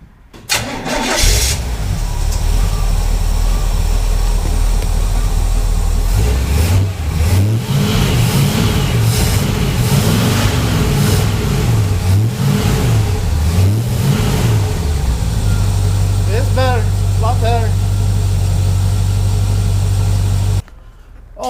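A 1963 Chevrolet Impala engine, fitted with new spark plugs after the old ones were worn, cranks and catches, then runs loud and close with several rising-and-falling revs before settling into a steady idle, cutting off at the end.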